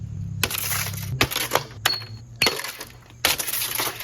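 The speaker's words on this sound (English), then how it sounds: "What I'm gonna do with this axe is I'm gonna try to slice off the keycaps by swiping it side to side on the MacBook" An axe blade is dragged side to side across the keyboard of a 13-inch MacBook Air. It makes five sharp, scraping clatters with brief quiet gaps between them, close up and fairly loud.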